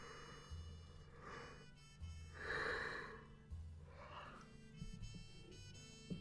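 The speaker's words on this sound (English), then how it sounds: "I don't yawn this often" A person's yawn during a podcast recording, a drawn-out breathy inhale and exhale with soft voiced tones, followed by quieter breathing, heard close and faint.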